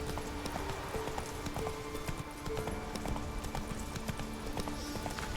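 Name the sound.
horse Roach galloping in video game The Witcher 3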